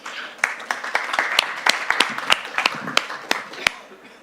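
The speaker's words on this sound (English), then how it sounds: "A very big last applause" Audience applause for a startup pitch presenter at a food-systems challenge: scattered, fairly sparse hand claps from a modest crowd, individual sharp claps standing out over a softer bed of clapping, steady for a few seconds.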